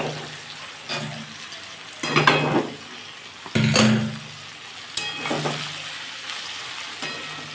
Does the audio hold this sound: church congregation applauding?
no